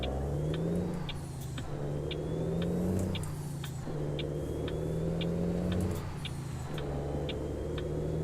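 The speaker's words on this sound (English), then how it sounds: "I should have got a more powerful engine for this. The acceleration on this is a little slow." A custom Freightliner FLB truck engine in American Truck Simulator drones and revs as it accelerates slowly, rising in pitch through repeated gear steps, steady and fairly loud with faint ticking above, and no talking.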